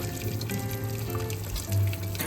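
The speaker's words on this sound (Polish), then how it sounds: "przelewam makaron zimną wodą, żeby przerwać proces gotowania" Cold water poured over freshly cooked pasta in a home kitchen while making mushroom soup, a steady splashing stream from a tap with a brief louder gush near the end.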